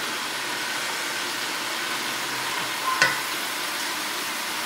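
Vegetables sautéing in a pan for vegan Southern comfort food give a steady, even frying hiss with a brief clink near the end, and no voices.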